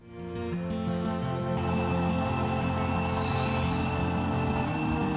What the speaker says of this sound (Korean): 이놈의 알람 시계는 진짜 며칠 들어도 적응이 안 되네요.